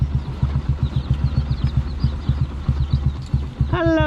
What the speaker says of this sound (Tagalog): Pinapainit pa natin yung makina ni Mia eh